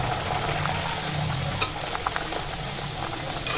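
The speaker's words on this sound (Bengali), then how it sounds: "যখন তোমরা পুরিগুলোকে তেলে ছাড়বে, খুন্তিটাতে করে এভাবে হালকা হালকা করে একটু চেপে দেবে" Pea-stuffed kachori frying in hot oil, a steady broadband sizzle and crackle that holds throughout with a few small pops, close and even in level, with no talking.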